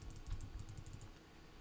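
Quiet, rapid typing on a computer keyboard, a soft burst of close key clicks with no voices.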